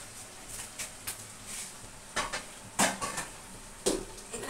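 A pot of cooked rice being lifted and wiped, with a few sharp metallic clanks and knocks spaced out over quiet kitchen background.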